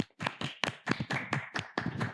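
A small group of people clapping hands in a short, uneven burst of about nine claps, fairly close and distinct with no talk over it.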